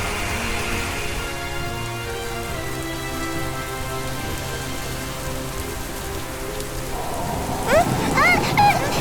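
Sudden heavy rain pours down over a steady background of sustained musical tones, with a rumble of thunder and a louder wash of rain swelling near the end.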